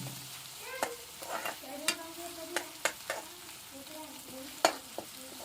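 A spoon stirs gawar cluster bean curry with onion, tomato and curry leaves in a kadai, giving quiet scraping and a soft sizzle punctuated by several sharp clinks of the spoon against the pan.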